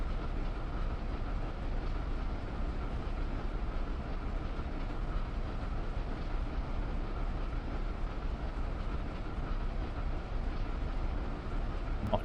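Steady rumbling run of a New York Central train on the Boston–Albany line in Train Simulator Classic, with continuous wheel and rail noise holding at an even, close level throughout and no voices.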